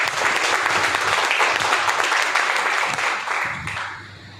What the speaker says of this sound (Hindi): मैं चाहूँगा इसके लिए जोरदार ताली हो जाए।